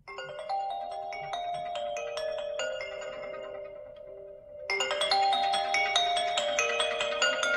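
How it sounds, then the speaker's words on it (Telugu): New Alt 1 ringtone added in the iPhone iOS 26 beta, a chiming tonal melody that plays on, briefly dips, then returns fuller and louder, heard clean and close without speech. "సో ఇదైతే మనకి న్యూ రింగ్ టోన్ అయితే యాడ్ చేశారు."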